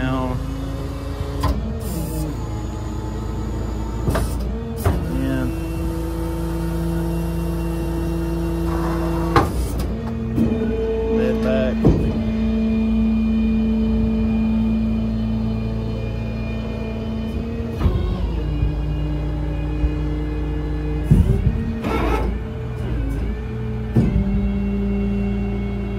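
A 2020 Kenworth T270 rollback tow truck runs its wheel lift and winch, a steady hydraulic motor hum and engine rumble with clunks and knocks of moving metal throughout, fairly close and continuous.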